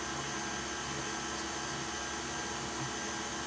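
A sausage stuffing machine runs steadily while Polish kielbasa is being made, giving a continuous broadband mechanical whir with a low motor hum that holds constant and fairly quiet throughout, with no talk.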